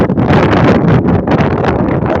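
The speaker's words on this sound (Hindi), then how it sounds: "इस तरह की हवा है, वो बहुत ही तेज हवा है" Strong storm wind blows hard and close, a loud, continuous roaring rush that buffets the microphone in gusts without a break.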